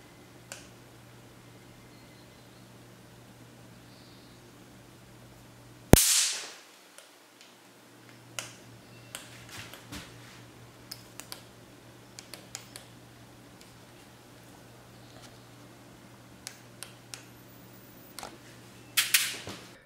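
Xiaomi electric insect zapper snapping with sharp, loud pops as it kills insects, one big crack followed by scattered smaller clicks and a final burst of pops against a quiet background hum.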